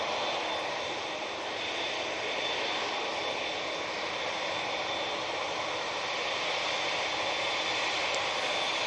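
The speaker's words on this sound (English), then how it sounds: "I saw that EasyJet is coming over" An EasyJet jet airliner passes over Manchester Airport, its engines giving a steady, broad, moderately loud roar that holds evenly the whole time with no voices.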